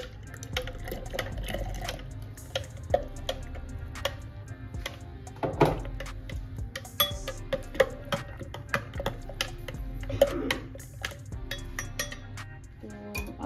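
Lemon juice and sugar are stirred into cucumber juice for lemonade, with a spoon clinking repeatedly against the container over a soft liquid swish, close and fairly quiet.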